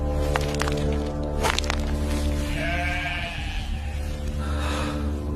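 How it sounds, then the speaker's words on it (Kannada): Sheep bleat repeatedly in a nasal, wavering chorus over steady, droning background sound, with no voices. "ನಿನ್ನ ಪರಿಶ್ರಮದ ಫಲವಾಗಿ ಈ ಕುರಿಗಳು ಉದ್ಭವವಾಗಿವೆ"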